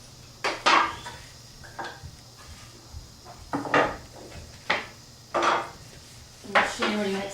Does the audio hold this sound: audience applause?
no